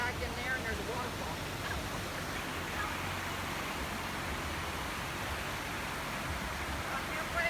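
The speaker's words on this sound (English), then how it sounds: "About halfway up, in the middle, just look back in there, and there's a waterfall." Waterfall in the mountains near Gatlinburg, a steady broadband rush of falling water heard continuously at moderate distance with no breaks.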